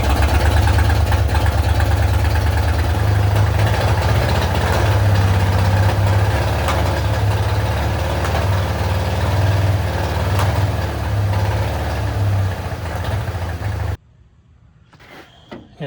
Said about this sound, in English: Let's see if she'll fire up one more time.